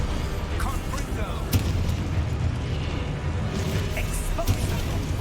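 Confringo blast spells explode during Hogwarts Legacy combat, a continuous loud roar of booms and bursting impacts with sharper hits standing out amid the game's combat noise.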